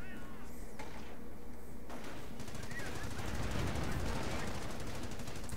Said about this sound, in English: See how his rifles are attacking right here?